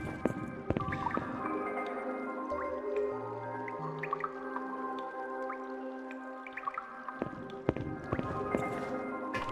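Water drips repeatedly in a dark, eerie setting in the video game Silent Hill: Shattered Memories. The drips are irregular and fairly soft, set over ambient music, with low creaking in the background.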